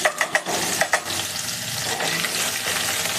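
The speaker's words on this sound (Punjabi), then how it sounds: "ਇੱਥੇ ਜੀਰਾ ਚਟਕ ਗਿਆ ਏ ਆਪਾਂ ਨਾਲ ਹੀ ਪਾ ਦਵਾਂਗੇ ਲਸਣ ਅਦਰਕ ਦਾ ਪੇਸਟ" Ginger garlic paste dropped into hot oil with crackling cumin seeds, a run of quick spattering pops up front giving way to a steady, loud sizzle and hiss close by.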